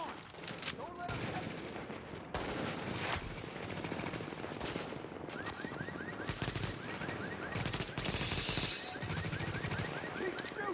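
Rapid automatic gunfire from The Division, a co-op shooter, crackles in dense bursts throughout, with occasional talk mixed in beneath the shots.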